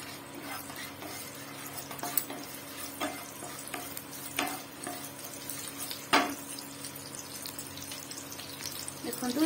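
Cumin seeds frying in hot oil in a pan for rajma, a soft continuous crackle and hiss with scattered spoon taps and stirring, fairly faint and close.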